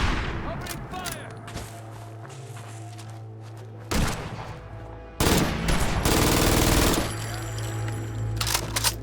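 Gunfire in the post-apocalyptic game Fallout 4 comes as sharp bursts and booming shots that build into a dense volley late on, over a steady game hum with voices nearby.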